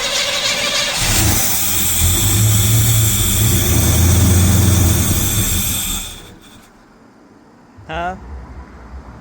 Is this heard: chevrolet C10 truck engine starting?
yes